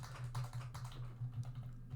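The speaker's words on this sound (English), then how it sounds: "So I'm just typing this out so you can see." Keys clatter on a computer keyboard while a spreadsheet formula is entered, a fast, uneven run of soft taps heard close and fairly quiet over a low steady hum.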